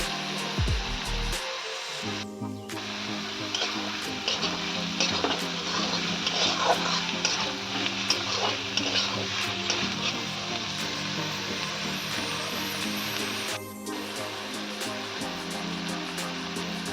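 Tomatoes, onions and chopped coriander leaves cook in a pan, giving a steady, continuous sizzle with faint stirring throughout, close and moderately loud with no speech.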